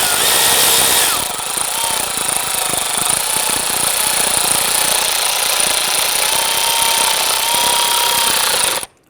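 A power tool snugs down the battery hold-down block on a 1999-2004 Jeep Grand Cherokee, whirring loudly and steadily for about nine seconds before cutting off abruptly.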